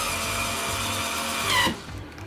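A power driver runs steadily as screws fix a shelf bracket to a plasterboard wall, giving a continuous whirring buzz that swells briefly and then cuts off.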